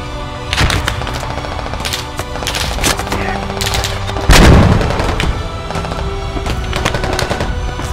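Tank cannon and rapid gunfire in the Squad military video game, with a heavy boom near the middle over continuous machine-gun bursts and shots throughout.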